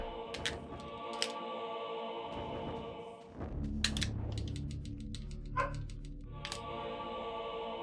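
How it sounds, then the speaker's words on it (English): The neighbours' dogs bark in short clusters of sharp yaps that come and go over a steady background tone, with quieter gaps between bursts and no talking. "It's so funny how you can hear the dogs even while I have a noise gate"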